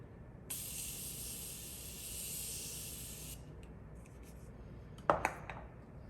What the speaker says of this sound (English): A little bit of Morphe Continuous Setting Mist.